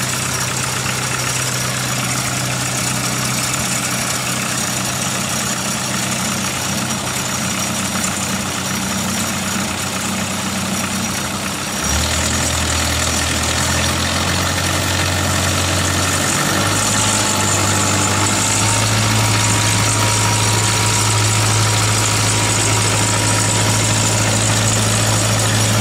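The 8142DE dredge's diesel engine idles loud and close after starting, a steady low rumble that shifts down and settles around the middle, then steps to a slightly deeper, stronger drone.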